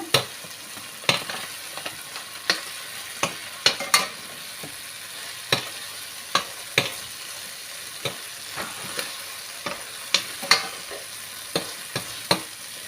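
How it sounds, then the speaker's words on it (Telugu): Vegetable mixture for an onion-free vegetarian curry frying in a pan, a low sizzle punctuated by a dozen or so sharp utensil strikes as it is stirred, close and without talk. "ఈ 2-3 మిక్స్ చేసి ఫ్రై చేస్తున్నాను."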